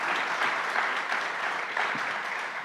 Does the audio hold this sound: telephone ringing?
no